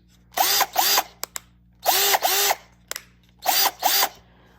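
A Topshak TS-ED3 20-volt cordless drill/driver whirs in three pairs of short bursts, each spin rising and falling in pitch, with faint clicks between them.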